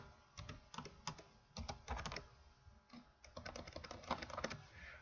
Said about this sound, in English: I'm going to type something on it.